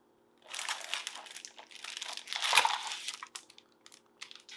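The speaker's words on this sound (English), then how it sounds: "When you open up the bag, you'll see just a simple plastic wrapping on the keyboard." Thin plastic wrapping around a new keyboard crinkles and crackles in close bursts as it is pulled open, fairly quiet with brief pauses and no talking.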